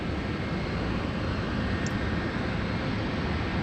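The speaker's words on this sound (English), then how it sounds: "We've got the United Airlines 777-300ER heading off to San Francisco." United Airlines Boeing 777-300ER departing Sydney Airport, a steady broad jet engine roar that stays loud and constant throughout, without any talk.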